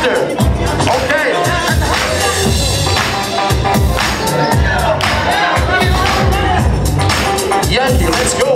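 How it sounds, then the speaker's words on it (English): Crowd at a locking dance battle cheering and clapping along over loud thumping music, a lively packed room with bursts of shouts rising above the beat throughout. "Just clap together."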